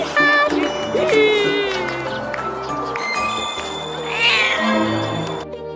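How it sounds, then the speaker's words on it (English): A Banana Cat meme cat meows in a bright, wavering call, with a couple of meow-like cries and a higher squeal near the end over a busy electronic backing, loud and continuous for about six seconds. "It's Banana Cat meme."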